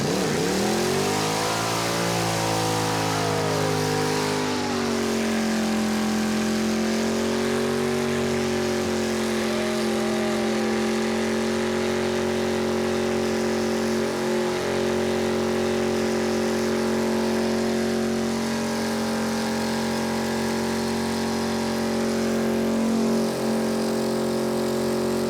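A Dodge Daytona pro street car holds a loud, sustained burnout: a steady engine roar at high revs with a few rising and falling pitch swings. It stays near and continuous for the whole stretch, with no voices.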